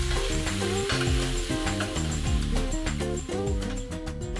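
Pork and sesame balls fry in a pan with a glaze sauce, giving a close, continuous sizzle with bubbling crackle and stirring clatter throughout.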